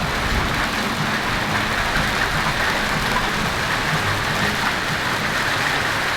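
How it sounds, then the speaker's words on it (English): Hail pelting down on a car at night, a dense, continuous rattling hiss that stays steady throughout, with no voices. "Is this really hail?"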